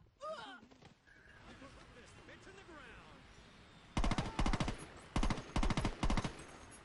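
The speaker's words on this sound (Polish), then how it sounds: "Jak ona jest w stanie trzymać tak karabin maszynowy?" A machine gun fires in Saints Row 2 game combat, several rapid loud bursts in the second half, after earlier game sounds and a talking voice.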